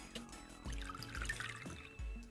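Liquid pours back into a bottle in a video game scene, a gurgling, dripping flow running steadily over a low ambient music bed, with a few brief splashing surges.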